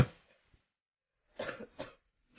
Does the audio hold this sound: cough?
yes